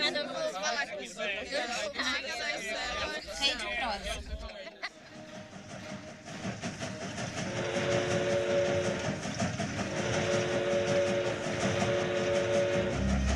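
A train runs along railway tracks through a town, a steady rumbling roll with a sustained whistle-like tone, heard under continuous talking.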